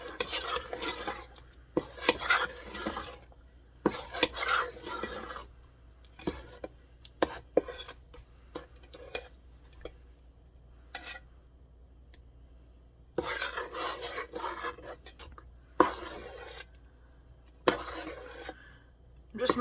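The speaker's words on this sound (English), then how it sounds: "And now I can stir it all up." A spoon stirs cranberry raspberry habanero jam in a pot, making intermittent scraping and clinking bursts with quiet pauses between them; no one talks.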